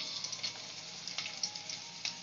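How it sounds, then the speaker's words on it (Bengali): Garlic and chilli hit hot oil in a wok, a faint, even crackling sizzle with small pops throughout. "তেল গরমটা হলেই"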